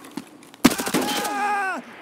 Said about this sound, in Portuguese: Ele atirou em mim, mas ele não acertou.